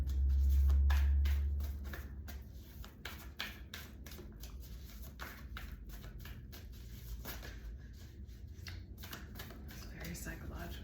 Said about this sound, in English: Let's just keep going because I need to shuffle.